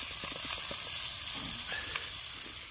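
Steady, bright sizzling of steaks frying in hot duck fat, close and continuous, with faint crackles and pops and no voices.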